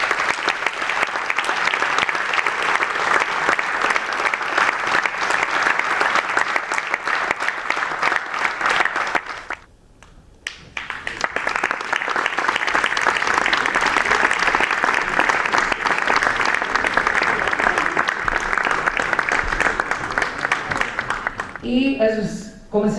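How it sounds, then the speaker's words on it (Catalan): An audience at a civil protection volunteers' association ceremony applauds steadily and loudly for about twenty seconds in honour of four absent volunteers. The clapping breaks off briefly and then resumes, and a voice comes in at the very end. "També un aplaudiment per ells 4."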